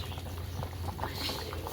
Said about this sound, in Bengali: ঝোল কিন্তু ফুটে গেছে